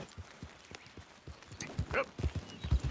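Horse hooves clip-clop in the Red Dead Redemption 2 video game, a quick uneven run of soft thuds at moderate distance that grows denser and louder toward the end.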